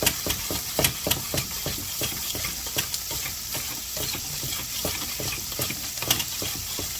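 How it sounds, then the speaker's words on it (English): Sriracha being mixed into cheese for cheese fries, with a steady scraping and stirring texture and sharp utensil clicks against the bowl, close and fairly loud, with no talking. "we're gonna go ahead and just mix the Sriracha into the cheese"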